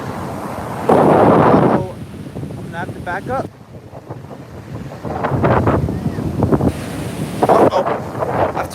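Ocean surf rolls in at Pacifica beach, California, heavy wind buffeting the microphone, with loud bursts of breaking water between stretches of someone talking up close.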